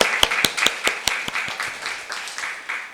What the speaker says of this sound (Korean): 박수로 영광 올려드립니다